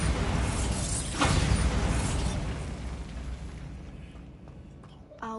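A Bombarda blasting spell goes off in Hogwarts Legacy, a loud, broad explosive boom with a rumbling tail that fades over several seconds before a short sharp pop near the end.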